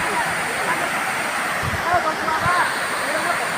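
Water pouring heavily over the Nimbadevi dam spillway as it overflows, a loud, continuous roaring rush heard close by with faint voices beneath it.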